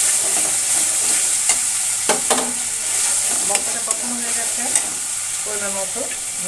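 Taro curry stirred and sautéed in a pan, a steady sizzle of frying with scattered scraping and clinking of the spoon against the pan, close and alone without talk.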